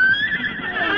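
A comedic horse whinny sound effect from a radio comedy sketch about a boastful Texas cowboy, one continuous high, wavering neigh lasting about a second, loud and close with no talk over it.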